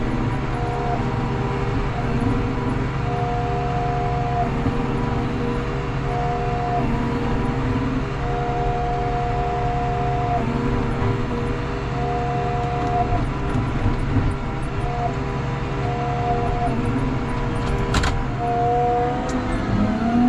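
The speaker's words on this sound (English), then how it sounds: "Nice things about having a truck is it's mixing as I'm loading" A feed mixer truck loading and mixing cattle feed on an Alberta beef farm runs with a loud, steady mechanical drone and grinding hum, with a few repeating whining tones and an occasional clank, and no talk over it.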